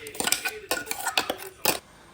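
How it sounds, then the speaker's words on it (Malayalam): A spoon stirs coconut paste into a prawn and raw plantain curry in a pot, making about six rhythmic scraping clinks against the metal, close up, with no talking. "ആ അരപ്പ് വെന്തിരിക്കുന്ന നമ്മുടെ കായ ചെമ്മീൻ മിക്സിയിലേക്ക് ചേർത്ത് നന്നായി ഇളക്കി കൊടുക്കുക."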